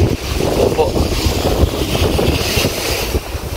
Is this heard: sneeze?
no